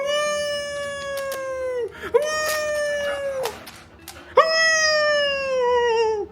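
A dog howls in long, rising and falling drawn-out wails, close and loud, repeated in three stretches with brief pauses between them.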